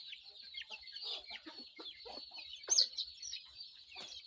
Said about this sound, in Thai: กินย่างดีเลยครับไก่น้อย